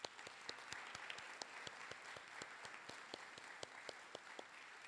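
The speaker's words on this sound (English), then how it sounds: "Let's recognize them with a round of applause." Round of applause from an audience at a College of Dentistry awards ceremony, fairly faint and distant, with scattered sharper individual claps standing out over a continuous soft patter.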